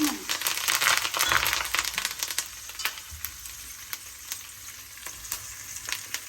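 Curry leaves crackle and sizzle in hot tempering oil for an amla pickle, a bright close frying hiss with sharp repeated pops and spatters, loudest at the start and then settling into intermittent crackling.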